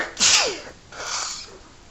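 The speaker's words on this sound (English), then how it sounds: "This is the first time I sneezed in a while." A single sharp human sneeze bursts out loud and close, followed by a fainter breathy aftersound, with no talking.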